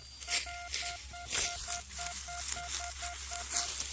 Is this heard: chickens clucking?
no